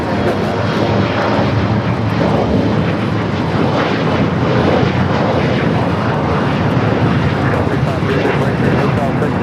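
An American Eagle SkyWest E-jet airliner takes off at LAX, its engines producing a loud, sustained roar that carries through the whole clip, with a voice commenting over it.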